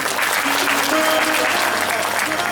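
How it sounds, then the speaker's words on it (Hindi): An audience at a Shrimad Bhagwat Katha religious gathering claps loudly and continuously. The dense applause fills the whole moment at close range. "एक बार जोरदार ताली बजाएं"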